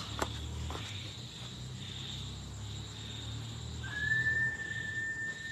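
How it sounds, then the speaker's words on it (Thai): A person whistles a single steady, high, clear note outdoors at night, coming in near the end over a constant chirping of crickets and insects and a faint background hum. "สุดยอดผิวปากด้วย"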